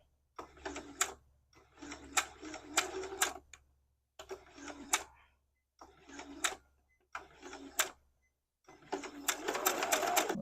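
A sewing machine stitches a four-patch quilt seam, running in several short bursts of rapid mechanical whirring separated by pauses, close and fairly steady, with a low hum underneath.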